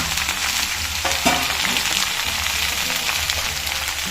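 Cauliflower, capsicum and potato fry in coconut oil in a pan, a loud, dense, steady sizzle with a brief stir or clatter partway through.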